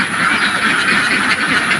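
A flock of ducks at a duck farm, producing a dense continuous chatter of quacks at fairly loud level with no one speaking.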